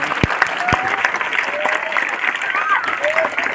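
Crowd applause greets a leader at a village political rally in a steady wash of clapping, with a couple of sharp thumps near the start and voices heard alongside.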